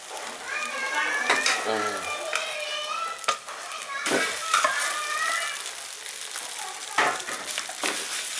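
Rice being stir-fried in a pan for old-style Thai red-sauce fried rice, with a steady close sizzle and repeated scraping of a utensil against the pan, while someone talks over the cooking.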